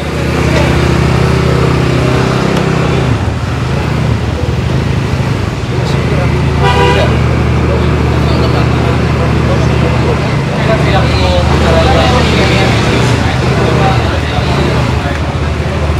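Peugeot Django 150cc scooter idling and revving close by on a street, a steady engine hum mixed with traffic noise and a horn toot, with people talking over it.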